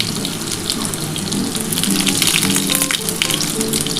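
Chopped onion with a spoonful of salt sizzling in a pan, a steady broad hiss and crackle of frying that holds throughout, with faint kitchen clatter underneath.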